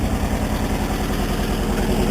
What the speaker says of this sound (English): The engine runs really well, very clean.